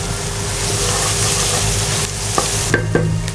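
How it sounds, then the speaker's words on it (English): Ginger garlic paste fries in a pan with a loud, close sizzle, then several sharp scrapes and clinks of a spoon stirring near the end. "Fry this really well until the raw smell of the ginger garlic is not gone away."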